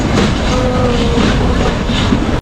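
Loud, close clatter of the Ooty toy train rolling toward Mettupalayam station, wheels clicking rhythmically over rail joints under a continuous rumble, with a faint squeal and no voices.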